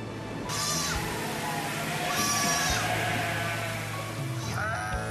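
A Mongolian nomad's flock of sheep and goats bleats in several wavering calls, some near and some overlapping, over a low steady background rumble.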